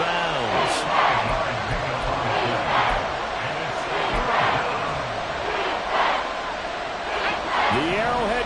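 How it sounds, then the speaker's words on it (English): Football crowd at Arrowhead Stadium roaring loudly and steadily for the whole stretch, a dense wall of cheering and yelling with a few voices standing out above it. "The Arrowhead crowd in full roar."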